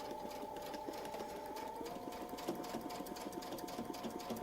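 A domestic sewing machine whirs steadily while quilting a large quilt with templates, its motor hum and rapid needle chatter close and continuous, with no talk.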